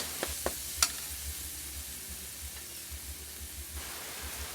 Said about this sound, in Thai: แล้วก็นำลงไปผัดกับน้ำมันให้มีกลิ่นหอมเลยนะคะ